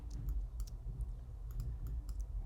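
Computer keyboard keys pressed for a Command J join shortcut in Adobe Illustrator, a handful of light, close clicks in an irregular rhythm with no talking.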